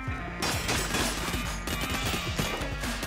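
Rapid bursts of gunfire in the game Enter the Gungeon, dense overlapping shots and impacts in a loud continuous barrage.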